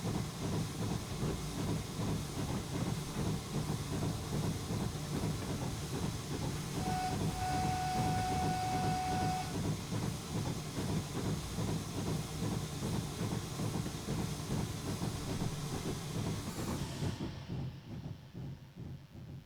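A steam train runs on the Falmouth route in Train Simulator, a steady rhythmic chuffing and rolling rumble with hissing and a short steam whistle blast midway, fading out at the end.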